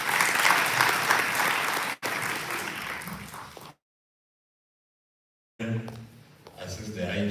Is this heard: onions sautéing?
no